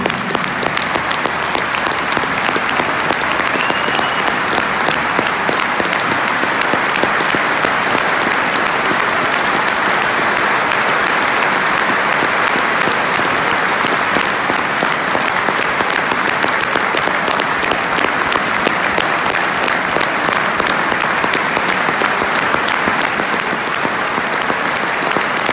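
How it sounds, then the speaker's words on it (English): A football stadium crowd at West Bromwich Albion's ground gives a minute's applause before a match against Reading, a loud, dense and continuous wall of clapping that holds steady for the full stretch. "we invite you to celebrate his life and achievements with a minute's applause"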